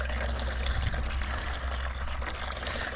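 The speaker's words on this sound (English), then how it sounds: "So I'm putting more water in here" Water pouring into the container of a paint sprayer during cleaning, a steady, close stream of liquid trickling and splashing for a few seconds with no voices.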